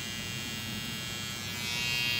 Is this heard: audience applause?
no